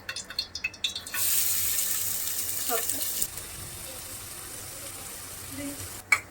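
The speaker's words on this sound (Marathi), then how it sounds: "तर आपला तेल गरम झाले आणि त्यात मी टाकते कांदा." Chopped onion dropped into hot oil in a home kitchen while making momos, bursting into a steady broadband sizzle after a few soft clattering taps, holding close and even before easing slightly, with no one talking.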